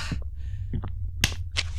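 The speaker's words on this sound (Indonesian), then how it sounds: "Gua tepuk tangan" A few sharp hand claps, irregular and close, with quiet gaps between them.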